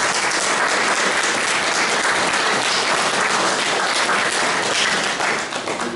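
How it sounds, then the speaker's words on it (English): Sustained applause from an audience honoring a speaker after a presentation, dense steady clapping filling the room throughout and easing slightly at the very end. "ask for a rapturous round of applause for Patricia."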